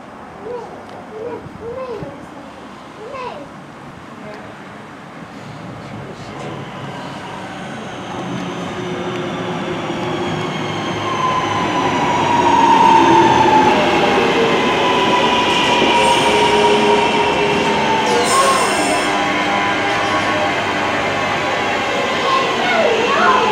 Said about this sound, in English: Now just boarded this class 323 EMU.